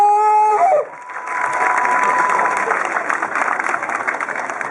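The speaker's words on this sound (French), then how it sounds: "Je vous invite, chers parents, à remercier par des applaudissements nourris M." Parents and guests at a town hall inauguration where medical equipment is handed over break into loud, sustained applause mixed with crowd cheering, following a short musical tone at the start.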